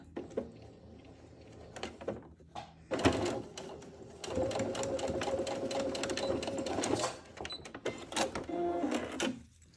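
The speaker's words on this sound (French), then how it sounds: "Je suis juste ma précédente ligne de couture." A sewing machine runs close by, stitching along a bag seam in several runs of steady rapid needle clatter, broken up by short pauses and handling knocks.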